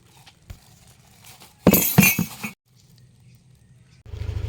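Drinking glasses brought along for coffee with bibingka clink together in a bright burst of several quick knocks mid-clip, with quiet background before and a low rumble after.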